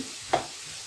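A single quick spatula scrape cuts through faint background sizzling as spice paste is stirred and fried in a pan for a loitta dry fish dish.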